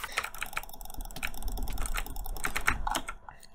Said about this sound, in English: Clicking intensifies.